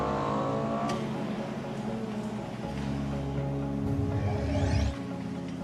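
A Lexus LFA sports car runs through speedometer and brake tests at a factory quality-control station. Its engine gives a steady, fairly loud drone that rises and shifts in pitch, with a whirring swell near the end and no voices.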